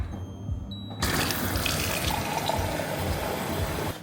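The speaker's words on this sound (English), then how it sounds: "Got this beast of a water filtration system, which also delivers sparkling water straight from the tap." Sparkling water gushes steadily from a water filtration system tap that dispenses carbonated water, a sudden loud onset after a quiet moment, then a constant close, hissing rush that runs without a break.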